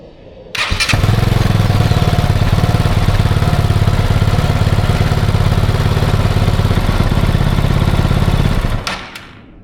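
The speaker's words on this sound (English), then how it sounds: "We'll start the engine." Kove 450 Rally motorcycle starting after a 4000 km service: a sharp crank and catch, then a loud, close, steady single-cylinder idle with a fast even pulse for several seconds before cutting off.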